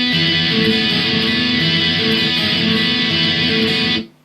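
A steady, loud distorted electric guitar plays a song's interlude phrase repeatedly for about four seconds, close and continuous with no voices, then stops abruptly.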